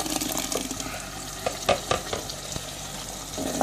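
Tomato juice poured into a hot pot of okra and meat, a steady sizzle and frying crackle with stirring bursts, close and continuous, no talk.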